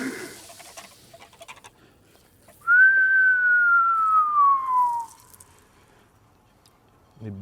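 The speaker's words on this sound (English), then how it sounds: "Why are you whistling, bro, like you're used to it?" A person whistles a single long, steady descending note lasting a couple of seconds while cooking pancakes in a casual kitchen setting, with faint clattering before it.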